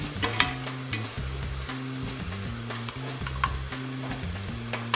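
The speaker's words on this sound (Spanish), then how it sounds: "Revolvemos muy bien. Agregamos sal y el tomate." A spoon stirs chicken spaghetti sauce in a pan after salt and tomato go in, giving repeated scraping strokes in a steady rhythm over a constant sizzle, close and clear with no talking.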